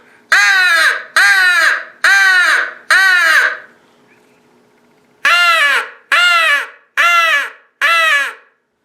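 A handheld Primos or HS Strut crow call imitates harsh caws, loud and close: a run of four calls, a pause, then four more in a steady rhythm.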